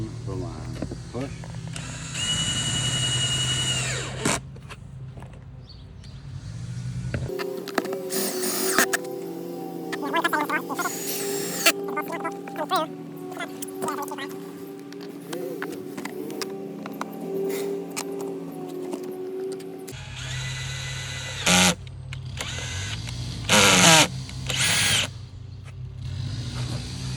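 A power drill with its clutch set drives screws while installing a mounting plate for a LILY SETTER, whirring in bursts that stop as the clutch slips, with a person talking between and over the runs.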